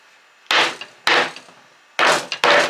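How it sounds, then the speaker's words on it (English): Four sharp, close blows from the back of a hammer on a wooden bread board, spaced unevenly, each with a brief ringing decay. "I just used a simple hammer, the back of it."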